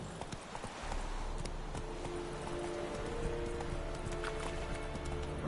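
Hooves clip-clop steadily from a horse in The Witcher 3 video game, a continuous quick rhythmic patter at moderate distance, fairly faint, with a soft rain-like hiss underneath.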